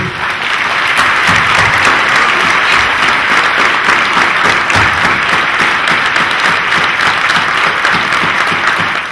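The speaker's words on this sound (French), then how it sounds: "On va simplement applaudir ces artistes qui travaillent pour nous et qui ont travaillé pour nous." An outdoor crowd at a French charity event honouring performing artists applauds steadily and loudly, dense clapping sustained throughout with no voices over it.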